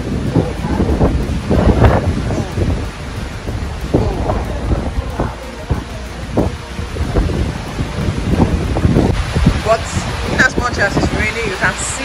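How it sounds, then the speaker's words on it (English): Steady rain and gusting wind roar outdoors in Abetifi, Ghana, with rumbles and people talking over the downpour throughout. "Oh my god, it's raining."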